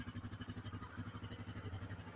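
A Yamaha Grizzly 660 ATV engine idles after a throttle screw adjustment, a quiet, even, rapid thumping pulse that holds steady throughout with no voices.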